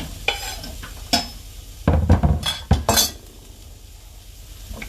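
Onions and carrots stirred in a pan with a wooden spoon: several loud, close scraping and knocking strokes clustered in the middle, over a soft background sizzle.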